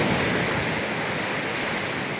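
Ocean waves wash steadily onto a dark-sand beach at Nasugbu, Batangas, a continuous broadband surf roar that stays loud and even throughout, with no voices over it.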